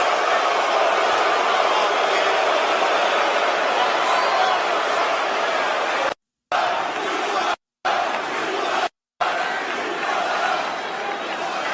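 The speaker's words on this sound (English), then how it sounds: "And listen to this crowd." Wrestling arena crowd roaring as Triple H comes out to celebrate with John Cena at his retirement, a continuous loud wash of cheering and chanting from a huge audience, briefly cut by a few short silent gaps.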